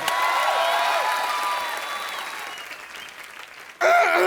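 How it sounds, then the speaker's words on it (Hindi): A television comedy studio audience claps in a dense, sustained burst that slowly fades, then a fresh loud wave of applause breaks in at the end. "ताली बजाओ रे इंडियन आइडल पर।"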